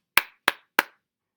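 Three crisp hand claps, evenly spaced and close, beat out the three syllables of celery, then silence.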